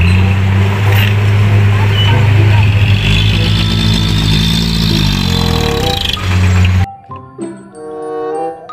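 A toy sand dump truck makes a loud whirring, revving engine-like drone with a high jingling tone. It shifts pitch, then gives way to a short melodic electronic tune near the end.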